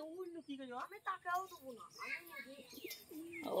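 A pigeon coos in soft, rolling bursts close by, mixed in with people talking over it.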